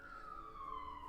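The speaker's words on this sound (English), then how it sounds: "there's some sirens going on, like right outside." Emergency vehicle siren wailing outside, a single faint, drawn-out tone sliding slowly downward, heard from a distance.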